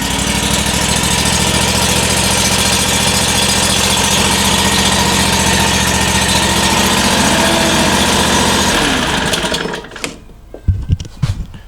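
A Predator V-twin engine on a John Deere 737 mower is started with the key. It runs loud and steady at a throttled idle for about nine seconds, then shuts off, followed by a few faint clicks and knocks.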